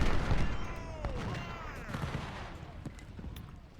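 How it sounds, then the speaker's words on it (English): Artillery counter-battery fire in the Ultimate General: Civil War game, with a rolling series of cannon booms and rattling gunfire, some whistling shells arcing overhead, and the barrage slowly easing off. "counter battery fire is doing their job"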